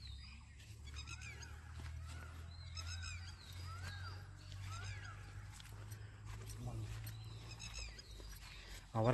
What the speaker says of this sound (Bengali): আবার একবার শুনতে পেলাম ময়ূরের ডাক।